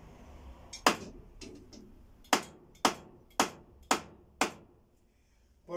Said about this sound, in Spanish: a la hora que haga el golpe con el martillo